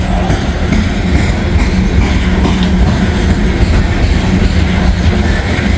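A short coal train rolls past close by, its steady, loud rumble and rhythmic clickety-clack of wagon wheels on rail filling the whole stretch.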